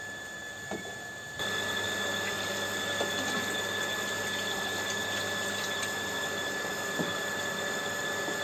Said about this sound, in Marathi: इथे आपण मोटरचं बटन ऑन करूया